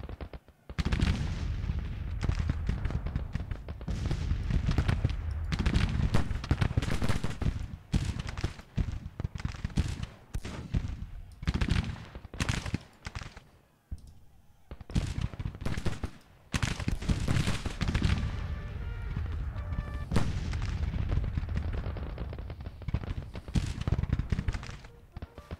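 Artillery booms and crackling musket volleys from a Bull Run battle in a video game, dense and continuous for the whole stretch, with irregular loud bursts layered over one another and no talk.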